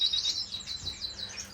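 Orange-cheeked waxbill finches chirp in an indoor bird room, a steady stream of thin, high twittering calls that runs continuously at moderate closeness with no talking.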